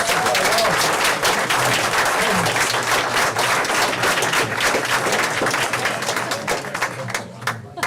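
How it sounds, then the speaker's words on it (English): An audience at a school board meeting applauds steadily for several seconds, a dense, close wash of clapping with some voices mixed in, tapering slightly at the end. "One more round of applause."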